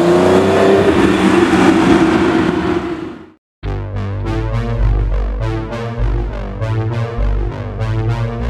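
A turbocharged supercar passes loudly, then the engine is heard accelerating hard through rising revs with rhythmic pulsing, close and with no talk.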